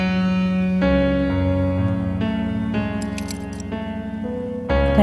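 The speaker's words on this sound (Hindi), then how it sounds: "ये चाबियां" A bunch of keys jangles and clinks loudly up close, rattling and shaking in bursts over a steady low engine-like hum, with no speech.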